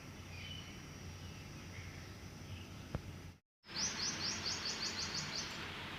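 Early-morning birds chirp and tweet outdoors, a steady, fairly faint chorus of small calls over a soft ambient bed, with a momentary dropout partway through and a brighter run of rapid chirps afterward.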